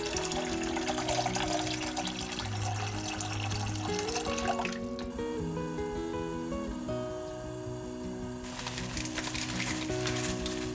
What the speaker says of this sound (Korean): 물 500ml 넣고 끓여줍니다.